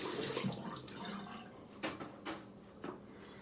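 Tap water runs onto a synthetic shaving brush, a soft, close splashing with a few brief louder gushes as the brush is moved under the stream.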